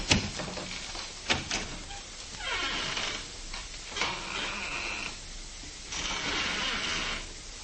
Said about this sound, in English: I'll step outside the office and close the door and then open it again.